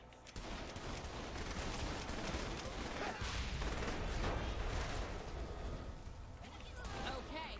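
Gunfire in Saints Row The Third, a dense, continuous roar of shots and blasts that runs the whole time beneath someone talking.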